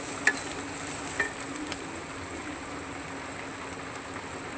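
Spiced potato mixture frying with a little water added, giving a soft, steady sizzle with a couple of faint utensil taps early on.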